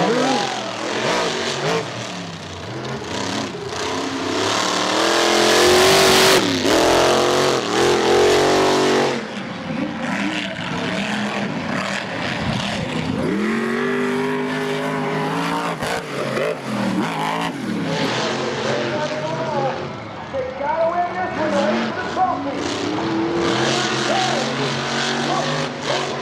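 Monster trucks race on a crossover track at Charlotte Motor Speedway, engines roaring loud and close throughout, revving, shifting and surging with continuous crowd and arena noise underneath.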